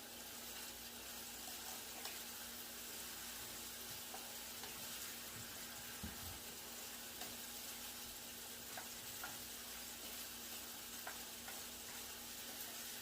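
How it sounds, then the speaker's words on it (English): A glaze cooks down in a pan during an easy home dinner, giving a steady close sizzle and soft bubbling throughout with faint stirring clinks, no talking. "We want to cook it till it starts to kind of like bubble, because we want it to be like a glaze."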